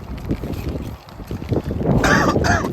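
Gusty wind blows outdoors at a concrete crack repair site on a rainy day, a steady rushing roar buffeting the microphone close up and swelling louder toward the end.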